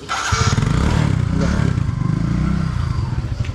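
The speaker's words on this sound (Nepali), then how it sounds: "सुमनले बाइक निकाल्दैछ" A motorbike is wheeled out and started in rural Baglung, Nepal, settling into a loud, close, steady idle with some clatter, while voices are faintly heard.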